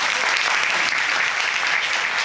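Studio audience applause on a courtroom reality show, a dense steady burst of clapping filling the whole moment without pause.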